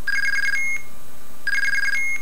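Blue box tone signalling for the IMTS mobile telephone service plays as two sustained electronic tone pulses, each ending in a short, higher-pitched beep. The tones are loud and clean, with no talking.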